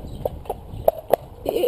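A big horse's hooves clip-clop on a road, several distinct sharp strikes at an uneven walking rhythm, close and fairly loud against quiet outdoor background.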